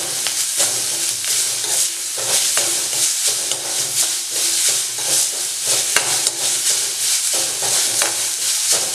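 Chopped onion with ginger and garlic sautéing in a pan for dal palak, a continuous loud sizzle broken by repeated scraping stirs that come every second or so.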